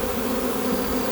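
A dense, steady buzzing of many honey bees around a hive, close and continuous, with no other sounds.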